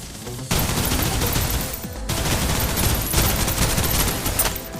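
Dense, continuous gunfire from the video game Snowbreak: Containment Zone, a loud, close volley of overlapping rapid shots that fills the whole few seconds with no talking.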